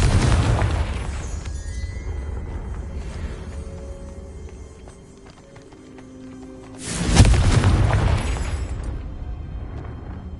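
A Confringo blasting spell from a Harry Potter video game bursts into a loud, booming explosion around the seven-second mark, rising out of a rumbling low background of game effects and music.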